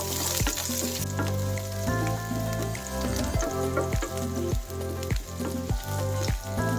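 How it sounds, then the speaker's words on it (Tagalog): Onions sautéing in a hot pan for a spaghetti dish with kangkong and bacon, a loud steady sizzle with rhythmic stirring, heard alongside a prominent musical backing track, no talking. "pwede na natin ilagay ang sibuyas"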